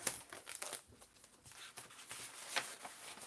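A sheet of paper being handled and set down, soft crinkling and rustling up close, quiet and irregular throughout the short stretch.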